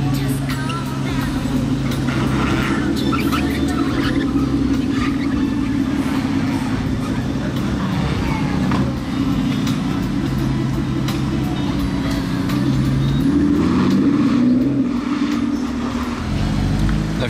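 Sports cars, a Porsche 911 Turbo and a GT3 among them, rumble through the streets of Monaco at night, a steady loud engine drone with revs rising near the end, amid crowd and street noise.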